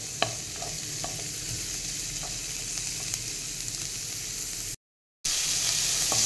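Carrots sautéing in a pan for lemon coriander soup give a steady, close sizzle with faint stirring clicks throughout, briefly cut by a moment of silence before the frying resumes.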